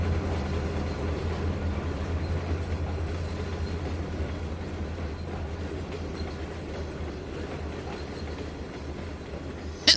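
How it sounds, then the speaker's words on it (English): A long freight train of ethanol tankers and rail boxes rolls by in Trainz 2022, a continuous low rumble with steady rolling clatter that holds evenly for the whole stretch, ending in a brief sharp click. "This is one long train."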